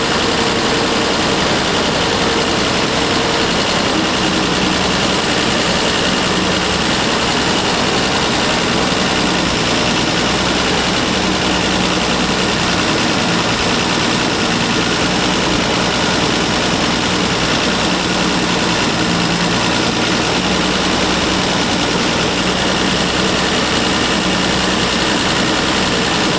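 A car engine fitted with a Zenith-Stromberg carburetor idles steadily, a continuous low rumble with a faint even vibration running for the whole stretch, no voices over it.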